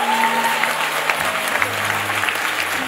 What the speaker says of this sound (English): You can clap for Jesus better.